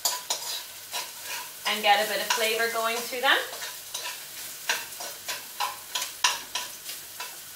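Sliced peppers frying in a hot pan on high heat for a spaghetti bolognese, giving a steady close sizzle with stirring and clatter, while a person talks over the cooking.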